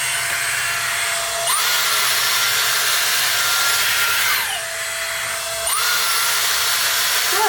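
A Dyson Airstrait hair straightener runs as a loud, steady whoosh of airflow with a high whine, passing over rough, dry hair, the pitch dipping twice as it cycles between settings.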